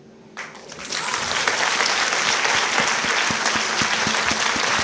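A crowd at an education award event in Calcutta starts clapping after a quiet moment, swelling quickly into steady, full applause that continues evenly, with a faint rhythmic pulse underneath.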